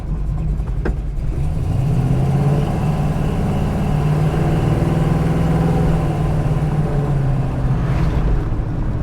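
A 1970 Plymouth Cuda with its 440 Six Pack V8 running close by, a deep steady rumble that swells briefly into a raised rev before settling back to a lumpy idle.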